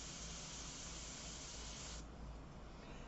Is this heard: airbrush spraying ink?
yes